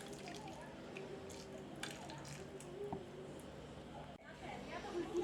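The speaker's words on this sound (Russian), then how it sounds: "И сейчас сюда заливаю томатная паста с водой разведенной и немножечко сахара" Diluted tomato paste, thinned with water and sweetened with a little sugar, is poured over buckwheat patties in a baking dish, giving faint, close wet squishing and dripping sounds against a quiet background.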